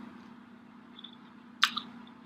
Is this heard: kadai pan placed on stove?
no